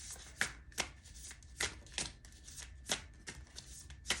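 Tarot cards are shuffled close up in a quiet room, a string of short, crisp riffling slaps repeating at an uneven pace, with no voices.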